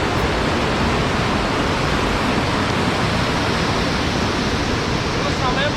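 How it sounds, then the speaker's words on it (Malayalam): Heavy rain at a hilltop tent campsite pours down as a dense, steady hiss, loud and unbroken from start to end. "അത്യാവശ്യം നല്ല മഴയുണ്ട്"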